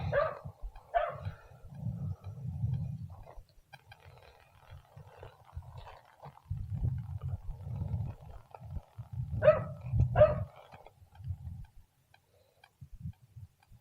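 A dog barks from a house during a delivery stop, a few short barks scattered through the clip amid rumbling background noise and occasional movement.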